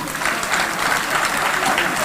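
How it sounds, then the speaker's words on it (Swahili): Parents in a crowd at a county dish project event attended by the governor clap steadily, a dense, continuous round of applause with faint voices mixed in. "Wazazi, ikiwa mmefurahia mradi wa dishi na county,"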